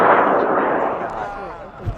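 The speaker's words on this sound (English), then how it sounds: "we're going to put up Daniel's rocket in 5, 4, 3" A high power rocket on a 54 mm K1100 motor lifting off at a launch event, a loud sustained roar and crackle close by that fades slowly over two seconds.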